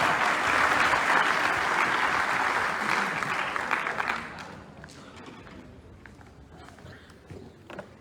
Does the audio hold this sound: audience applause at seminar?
yes